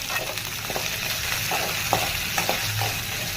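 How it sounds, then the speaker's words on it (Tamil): Onions sauté in a pan while mint chutney is being made, with a constant close sizzle and a few soft stirring knocks across the short stretch, without speech. "வெங்காயத்தையும் சேர்த்து பொன்னிறமாகிற வரைக்கும் வதக்கிக்கணும்"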